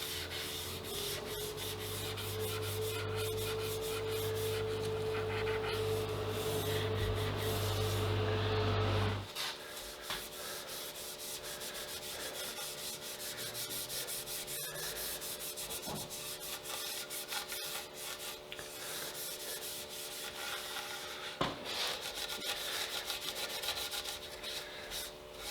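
Finish rubbed by hand onto a wooden guitar neck, a continuous scrubbing, rubbing sound; a steady hum runs underneath for the first nine seconds, then the rubbing carries on alone at even loudness.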